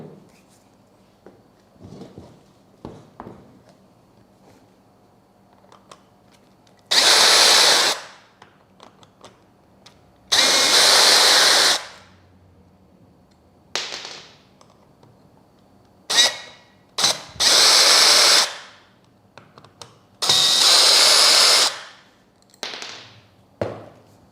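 An impact wrench and an impact driver run in turn, several loud close bursts of rapid hammering lasting one to two seconds each, separated by quiet gaps with small handling clicks.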